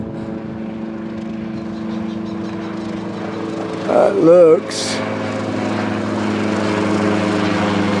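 A low country tour helicopter flying overhead makes a steady droning rotor hum that fills the whole outdoor scene along a greenway. A person speaks briefly in the middle.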